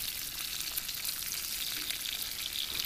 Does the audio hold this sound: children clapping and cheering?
no